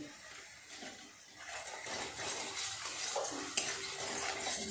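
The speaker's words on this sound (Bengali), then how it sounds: "খুব ভালো করে মশলাটা একটু কষিয়ে নেব।" Spice paste with tomato, sugar and red chilli powder fries in a pan for a pointed gourd dolma, giving a continuous close sizzle. The scrape of a spatula stirring it runs throughout, with one brief clink.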